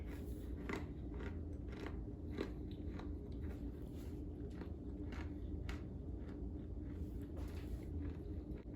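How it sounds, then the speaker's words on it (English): Close crunching and chewing of a crisp zero-calorie Oreo-style cookie, with repeated crackly bites over a steady background hum. "Do you hear that crunch?"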